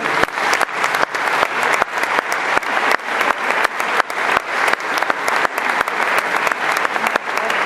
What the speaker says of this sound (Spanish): quiero suplicar un fuerte aplauso de reconocimiento a todos los líderes que trabajan aquí en la